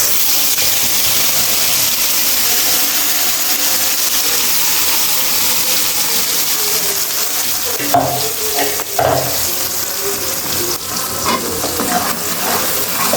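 Blended onion, garlic and ginger paste hits hot oil and sizzles loudly and steadily, with stirring scrapes and bursts of spatter toward the end, close up with no voices.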